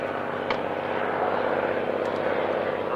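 A Rolls-Royce Falcon-engined two-seater fighter aeroplane flying at the Shuttleworth Collection airshow, a steady, fairly distant engine drone heard over open-air background noise, with someone talking over it.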